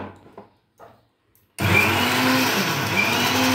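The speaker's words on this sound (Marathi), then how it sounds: "म्हणून थोडंशी मिक्सरमधून काढून घेऊ." A mixer grinder roars to life after a quiet pause with a few faint sounds, blending soft cooked vegetables with a loud, steady whirring drone that continues to the end.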